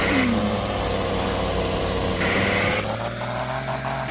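A monster truck engine in the video game Offroad Outlaws idles and revs loudly and steadily, a droning mechanical hum with rising and falling pitch throughout, no voices.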